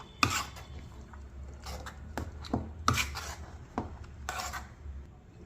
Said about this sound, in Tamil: இப்போ நல்லா மசிச்சிடலாம்.